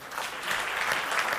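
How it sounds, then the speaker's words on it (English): A short burst of steady applause from an audience at a memorandum signing event, dense clapping at moderate distance with no talk. "A round of applause, guys"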